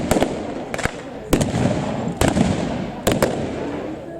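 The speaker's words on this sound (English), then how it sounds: "the unmistakable sound of the Sten" Bursts of Sten submachine gun fire at a WWII battle reenactment display, several short sharp volleys spaced through the scene over a steady background rumble, moderately distant and outdoors.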